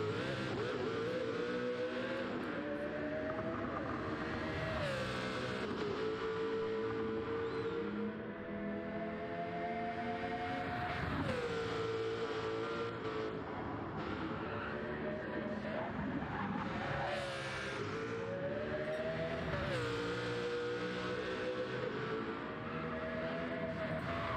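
A race car engine in a racing video game drives on at high revs, a loud steady whine that climbs and drops with each gear shift and corner, with occasional tyre noise.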